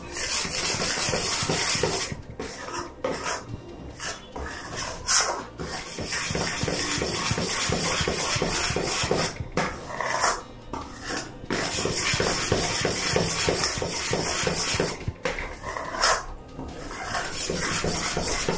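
A spoon stirs a bubbling sesame and jaggery gajak mixture after baking powder is added, giving steady scraping and clinking against the pan over a constant sizzling hiss, close and fairly loud.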